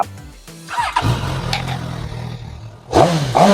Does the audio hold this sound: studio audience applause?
no